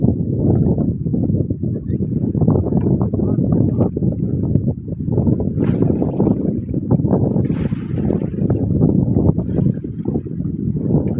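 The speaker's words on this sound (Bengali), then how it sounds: "নদীতে ঢেউ হচ্ছে খুব ভালো রোলিং হচ্ছে দেখাই যাচ্ছে খুব হাওয়াও ছেড়েছে" Strong wind buffets the microphone as waves roll on the Matla river in the Sundarbans around a small fishing boat, a loud continuous rushing roar with gusts and splashes throughout.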